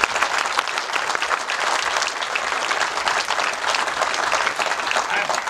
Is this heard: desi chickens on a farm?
no